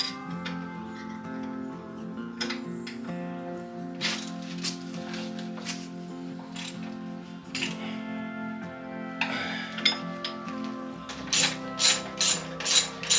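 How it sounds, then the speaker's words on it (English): A wrench ratcheting on a Harbor Freight lathe: sparse mechanical clicks and rattles over a low steady hum, ending in a quick run of sharp, evenly spaced ratchet clicks up close. "Got a wrench to hold it on the back side here."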